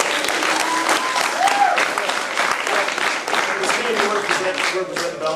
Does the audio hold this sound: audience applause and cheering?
yes